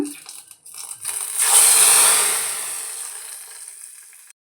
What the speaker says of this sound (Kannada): ನಾವೀಗ ಒಗ್ಗರಣೆನ ಸಾಂಬಾರಿಗೆ ಸೇರಿಸ್ಕೊಳ್ಳೋಣ.